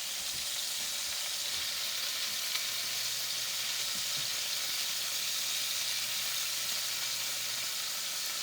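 Shallots and onions browning in a hot pan on a stove running at high heat give a steady, even sizzle and hiss that holds without pause, fairly soft and with no voices over it.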